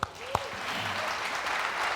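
Church congregation clapping for its leaders, a dense, steady wash of applause after a couple of sharp opening claps, with a brief voice near the start.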